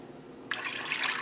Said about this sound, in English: we're going to be using a cup of warm water, but I'm only going to put in, like her, she used half a cup